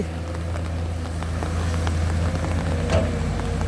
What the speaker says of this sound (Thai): ฝนตกครับ ฝนตก